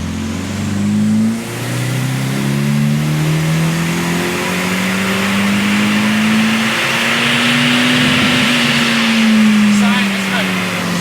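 A turbocharged car engine with a TD05 16G turbo at 18 PSI boost roars through a dyno power run, climbing steadily in pitch as it revs hard and holds near full load, loud and close.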